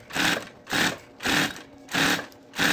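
A sewing machine stitches a seam on a synthetic handbag in five even, rhythmic bursts of rapid mechanical whirring, each roughly half a second long, separated by short pauses, close and clear.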